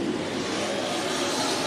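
Race cars roaring out of turn 4 at Sunset Speedway Park in Banks, Oregon, a loud, steady engine drone from the pack without break.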